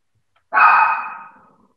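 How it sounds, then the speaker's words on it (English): A dog gives a single short bark during a committee meeting, one clear close yelp that rings briefly and fades, with no talk over it. "the dog's chiming in."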